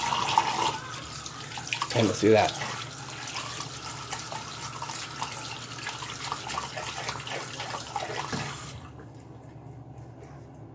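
Water runs from a tap in a steady broadband stream, with a brief splash and clatter near the start, and a voice speaks softly over it before the flow cuts off near the end.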